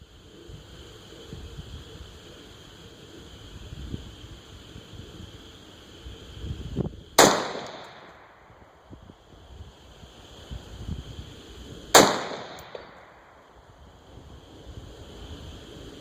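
Two sharp, loud rifle shots from an SPR rifle fired at a target outdoors, spaced about five seconds apart, each followed by a short decaying report over faint wind.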